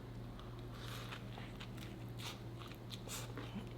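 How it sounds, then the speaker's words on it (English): A close bite into a crispy Nashville fried chicken bao bun topped with pickles, giving a few crunchy crackles and chewing sounds over a steady low hum. "Let's take a bite with the pickle."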